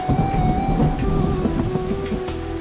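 A cyclone thunderstorm in India, with heavy rain pouring steadily and thunder rumbling loud and close throughout, and no voices.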